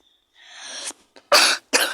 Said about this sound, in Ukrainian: Пробачте, я трохи прихворіла, тому і каслю.